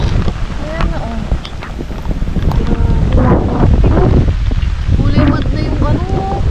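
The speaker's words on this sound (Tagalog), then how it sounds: "Sobrang lakas ng hangin." Very strong storm wind buffets the microphone with constant loud roaring gusts near a flooded fishpond, and water rushes underneath. Someone speaks intermittently over the noise.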